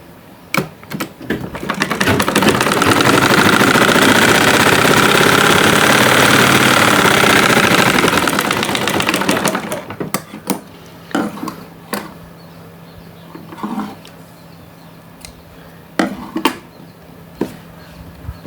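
A sewing machine stitches trouser fabric in one steady, loud run of about eight seconds, followed by scattered clicks and short handling taps.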